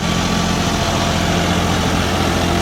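New, unmodified tractor engine idling in gear on a farm field, a loud, steady, close diesel rumble with constant vibration throughout.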